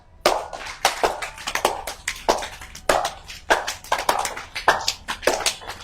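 Sharp hand claps in a steady rhythm during a yoga breathing and heart-strengthening exercise, about a dozen crisp, close claps over several seconds with no talking.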